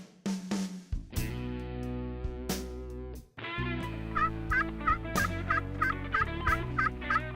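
Wild turkeys gobble at dawn in rapid, rattling bursts, several calls echoing across open hillsides, with loud close gobbles and fainter answering ones trading back and forth.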